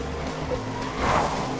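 A car in the racing video game Cars skids with a short tire squeal over a steady engine hum, rising briefly near the end.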